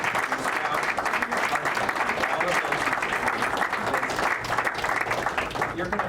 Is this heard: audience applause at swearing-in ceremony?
yes